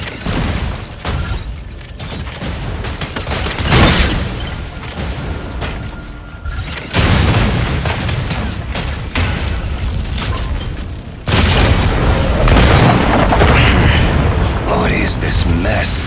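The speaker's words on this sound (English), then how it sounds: "You can also use Gauss cannons to attack. Gauss cannons' powerful impact can immobilize the target." Heavy booming impacts and explosions from Gauss cannons in the mech combat game Mecha Break, loud and dense, with bursts and crashes layered over one another throughout.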